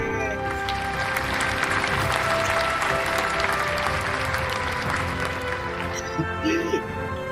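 Loud, sustained applause and cheering from a large crowd for the President of the Philippines during a State of the Nation Address, steady and dense throughout with voices mixed in.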